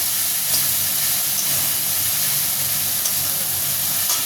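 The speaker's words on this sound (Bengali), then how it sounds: "এবার কিন্তু মশলাটাকে ভালো করে কষে দিতে হবে।" Spice masala for a Bengali mola fish jhal fries in a hot pan, making a loud, continuous sizzling hiss close by with only slight variations and no pauses.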